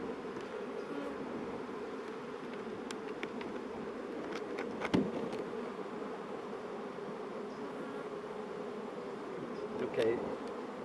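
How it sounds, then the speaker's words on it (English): Honeybees from a nuc box shaken down into a hive give a steady, dense buzzing swarm drone throughout, with brief louder bumps near the middle and the end. "let the bees come out naturally, or you can give it a good shake on top of the hive"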